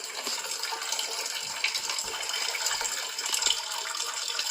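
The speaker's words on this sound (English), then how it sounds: "This way water is gonna come out from the system completely" Water draining out of a Vaillant boiler heating system as it empties completely, a steady broadband rushing and trickling flow that continues unbroken throughout, moderately loud and close, with no talking.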